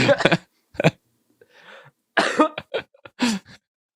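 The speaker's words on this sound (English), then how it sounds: "You're making me cough because you're making me laugh" Several sharp coughs come in uneven bursts, close and loud, with short pauses and a breathy throat-clearing sound in between.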